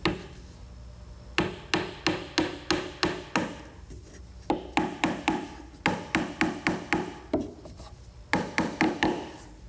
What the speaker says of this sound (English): So I'm just going to set these in place with some 4-penny finish nails.